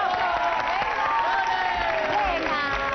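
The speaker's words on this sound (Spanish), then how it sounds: "¡fuerte hombre. Aplauso!" An audience claps and cheers in a dense, continuous burst, with shouting voices mixed into the applause.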